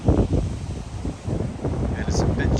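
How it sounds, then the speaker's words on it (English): Wind blows steadily across the microphone at Town Neck Beach on a breezy, chilly late-April day, a constant rumbling gust noise with faint surf-like texture beneath. "it's a little breezy, but it's always for the most part windy"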